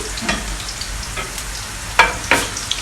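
Onions and garlic frying in a pan crackle with a soft, steady sizzle while a utensil stirs them, making a few sharp scrapes and clicks up close.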